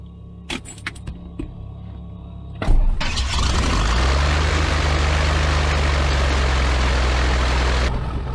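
A Piper Cherokee 235 light aircraft engine cranks and catches after a few clicks and clatters, then settles into a steady, loud, low droning idle close by.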